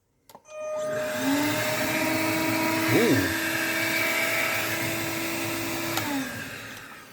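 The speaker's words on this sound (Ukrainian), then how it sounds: "Вставляємо наш пилосос ось таким чином і вмикаємо." A click, then an Einhell TE-HV 18/06 Li cordless vacuum cleaner whirs up and runs with a steady high-pitched whine, its pitch briefly wavering before it winds down near the end.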